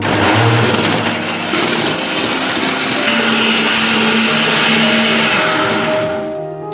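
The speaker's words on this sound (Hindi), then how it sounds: "अब इसको अच्छी तरह से ब्लेंड कर लेंगे 2-3 मिनट।" A blender whirs loudly and steadily, close up, as it blends a watermelon sharbat with ice cubes, lemon juice, sugar syrup and water, then winds down at the end.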